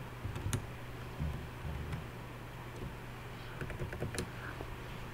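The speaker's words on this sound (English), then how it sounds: "I'm going to type" Close keystrokes tap out a short burst on a computer keyboard in a quiet room, scattered light clicks arriving in small irregular clusters.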